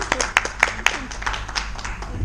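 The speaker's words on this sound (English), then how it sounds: "clap your hands" Hands clap along to the children's song "If You're Happy and You Know It" at an early childhood education conference, a few quick claps mixed with murmuring voices and room noise in a hall.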